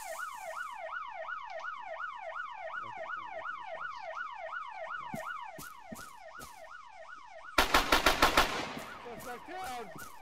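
Bursts of gunfire ring out in a police-themed video game, a short rapid volley of loud cracks breaking in over a steady wailing siren that pulses throughout.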